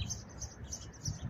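Small birds, not pigeons, chirp and tweet up in trees on a warm spring day, with quick, faint, repeated high calls over a low background rumble.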